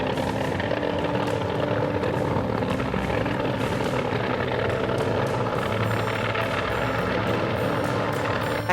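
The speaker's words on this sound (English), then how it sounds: "Helicopter descends slowly toward firefighters on a narrow road." A helicopter descends slowly toward firefighters on a narrow road, its loud, continuous rotor and engine roar steady and close throughout.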